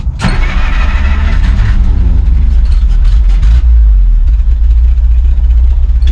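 A 1955 Plymouth Plaza engine, unrun for 42 years after being locked up, cranks and sputters to life loudly up close, running roughly with a rumbling idle that wavers, struggles and keeps dying.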